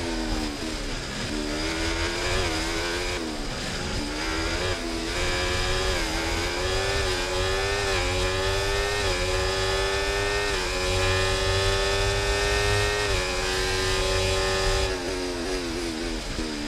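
Formula 1 race car engines scream in the F1 24 video game during an online race, a loud high-pitched whine rising through gear changes with several cars revving and accelerating continuously for the whole stretch.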